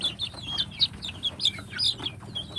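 A sick free-range village chicken with swollen, watery eyes from a respiratory (SNOT) infection clucks in a series of short, close chirping calls, with no talking.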